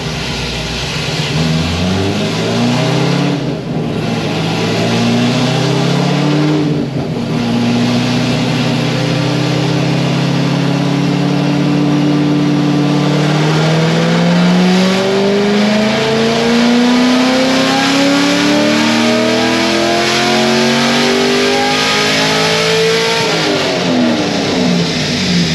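A clean stage 3 Corvette Z06 engine revs hard through a dyno power run, its tone climbing steadily in pitch as the run builds, then easing off near the end, loud and close with no talking.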